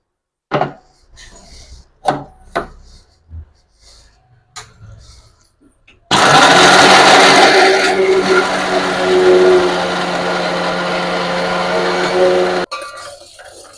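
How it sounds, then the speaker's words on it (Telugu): Small coconut pieces dropped into a mixer grinder with a few knocks and clatters, then the grinder starts with a loud, steady whirring roar that runs for several seconds before cutting off abruptly. "ఒక కొబ్బరి చెక్కని ఇలా చిన్న ముక్కలుగా కట్ చేసుకుని ఇప్పుడు మిక్సీలో వేసుకుని గ్రైండ్ చేసుకుంటున్నాను"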